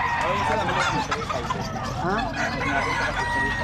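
A large rooster crows loudly and nearby at a pet market, with clucking fowl and people talking around it.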